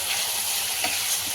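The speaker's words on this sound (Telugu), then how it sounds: "మనకి ఆనియన్లో సాల్ట్ వేసుకొని ఫ్రై చేసుకోవాలి." Onions frying with salt in a pan for a chicken masala curry, a steady close sizzle running the whole time with no talk.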